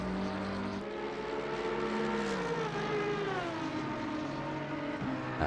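A race car in Assetto Corsa Competizione accelerates out of a braking zone, its engine note climbing steadily through the revs in a continuous, close, buzzing whine with a brief gear shift.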